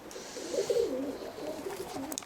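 Roller pigeons coo softly in low, rolling phrases, several murmured calls heard close by in a quiet loft with no talking.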